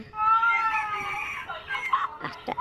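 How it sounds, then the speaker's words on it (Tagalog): An angry cat left behind lets out a long, drawn-out yowling meow followed by a few shorter, choppy cries, close and fairly loud. "At may pusa na nagalit dahil iniwan siya."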